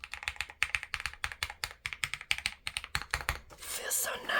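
Rapid, steady clicking of keys being typed on a nearby mechanical numeric keypad, a continuous run of sharp taps that ends in a brief burst of rustling noise.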